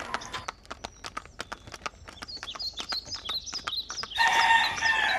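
A donkey pulling a cart on an evening road in northern China, its hooves clip-clopping in a steady, close rhythm, with birds chirping overhead and a brighter burst of noise near the end.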